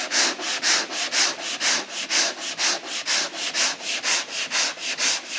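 Rhythmic back-and-forth rubbing of a sanding block on a primed panel of a VW T25 van, about a dozen even strokes, close and steady with no talking.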